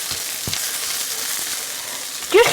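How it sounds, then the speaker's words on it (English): Cajun seasoning frying in a pan with peppers, giving a steady broadband sizzle throughout, with a soft tap near the start and a brief scrape of stirring toward the end. "fry it off for a minute or two so that it doesn't taste raw"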